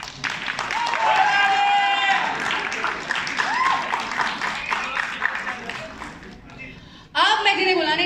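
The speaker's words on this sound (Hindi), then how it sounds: "जोरदार ताली के साथ आइए बुलाते हैं रानी चैटर्जी को" Audience applause and cheering for Rani Chatterjee's grand entry at a televised Khatron Ke Khiladi event, loud crowd clapping mixed with a voice over music, cutting briefly before a burst of sound returns.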